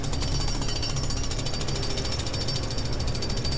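Drilling in the video game Lego Batman 3: Beyond Gotham, a steady, loud jackhammer-like rattle running without a break and alone throughout.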